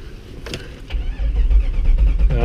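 A Jeep with no muffler fitted cranking and then catching, rising from a few clicks and whirring into a loud, deep, rough engine roar close by.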